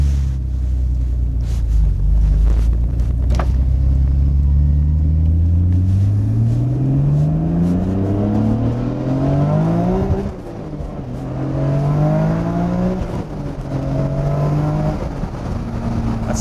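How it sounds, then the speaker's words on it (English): A Nissan Skyline R34 GT-R with its RB26 engine pulls hard on high boost, loud and close, the tone climbing through several gears with brief dips at the shifts and wind roar underneath. "Never go over the RB26 sound. It's got that distinctive Japanese 90s tone."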